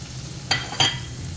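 Tawa keema being stirred on a hot griddle after garam masala goes in: a low sizzle under two quick spatula scrapes, with a faint third knock at the end.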